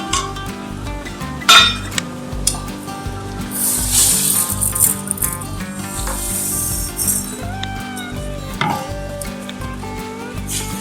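Chilli, dal and rice being stirred together in a metal cooking pan, with a steady clinking and scraping of a spoon against the pan, loud and close, and occasional sharper knocks, with little speech.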